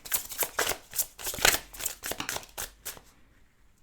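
A deck of tarot cards being shuffled by hand: a quick run of crisp, papery riffling bursts in an uneven rhythm, close and fairly clear, with no talking, trailing off into quiet at the end.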